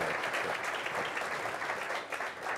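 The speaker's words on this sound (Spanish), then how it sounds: "Eres el único que te ha llevado el aplauso." Audience applause for Gabriel Escarrer, CEO of Meliá Hotels International, at an interview event: steady, dense clapping that holds at a fairly even level for a few seconds.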